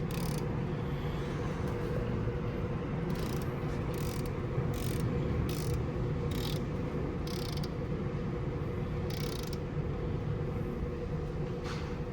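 A wrench tightens main bearing cap bolts on a 1962 Ford Falcon engine in short, quiet bursts of ratcheting clicks spread over a low background hum.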